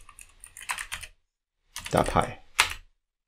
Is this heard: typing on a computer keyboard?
yes